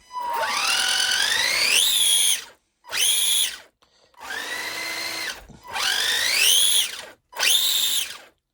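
A Tamiya Baja Champ TL-01B radio-controlled buggy's electric motor runs at full throttle in five loud, whining bursts that sweep upward in pitch, each cut off by short pauses.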